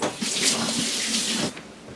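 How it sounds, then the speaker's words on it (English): Hands rinsed under a running kitchen tap during cooking, a steady close rush of water lasting about a second and a half before tapering off. "Let me rinse my hands."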